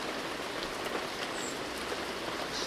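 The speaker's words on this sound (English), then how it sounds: "listened to the vicious whisperings of the rain" Steady rain falls in a dark outdoor setting by water, a dense even hiss of drops on surfaces that holds at a constant level throughout, with no voices.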